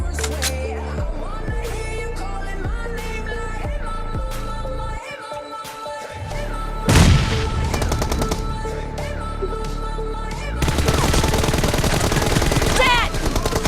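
Video game shooter gunfire: sharp single shots, then dense bursts of automatic fire with ringing tails. Some passages are quieter and others are rapid and loud, and game voice lines are heard briefly.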